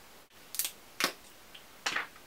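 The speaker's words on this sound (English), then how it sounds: "I'm just going to spray this all over my face." A hydrating facial mist sprayed over the face during a makeup routine: three short, close hissing spritzes spaced about half a second apart, with no talking.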